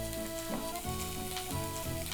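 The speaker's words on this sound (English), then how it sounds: "That's a good sizzle." Steady crackling sizzle of Finnish cheese frying in a hot pan, continuous and close, with a faint low hum underneath and no voices.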